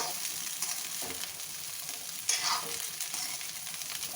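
Cauliflower florets frying in oil in a kadai, a continuous soft sizzle with stirring scrapes and a brief louder splutter midway; no voices.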